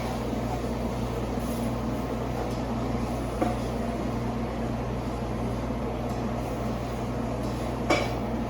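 Flour and butter roux being stirred with vegetables in a hot pan, a steady low kitchen rumble with soft scraping and a couple of faint clinks, no talk.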